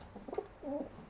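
Blantong halilintar pigeons coo softly at close range in a nest area, two short low murmured coos, the second longer and rolling, over quiet background hiss.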